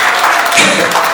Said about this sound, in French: Applaudissez pour Maman Marie.